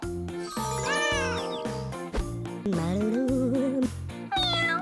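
Cat meows with rising and falling pitch come one after another over a bouncy music backing, with soft chimes mixed in.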